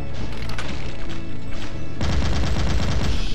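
Rapid chaingunner gunfire from the Doom Reverie video game, a steady stream of shots continuing through the whole stretch and growing denser and louder partway through, over game background sound.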